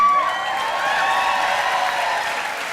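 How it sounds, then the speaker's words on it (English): Warm, sustained applause and light cheering from the crowd at a university commencement ceremony honoring the 2019 graduates, a full room clapping steadily and loudly, with faint voices mixed into the wash. "Please join me in applauding the 2019 graduates."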